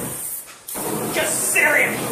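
An aerosol spray paint can hisses in bursts with a brief pause, loud and close, while people talk over it during a spray-paint art session.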